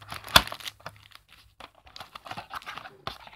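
Plastic wrap on a Bluetooth earphone box crinkles and tears with one sharp rip near the start, followed by quieter, scattered rustles and crackles close by.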